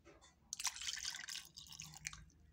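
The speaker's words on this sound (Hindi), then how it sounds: "अब मैं इसके अंदर दूध ऐड कर रही हूँ।" Milk poured into a bowl of egg paratha roll mixture, a soft liquid trickle and drip lasting about two seconds, close and quiet with no talking.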